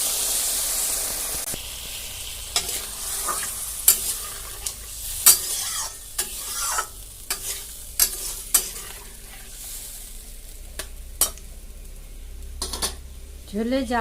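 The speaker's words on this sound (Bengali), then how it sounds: "এখন পরিমাণ মতো ঝোল দিয়ে দিচ্ছি" Potol posto curry simmers and sizzles in a pan after gravy is added, with a steady frying hiss broken by scattered spoon scrapes and clinks against the pot over about fourteen seconds.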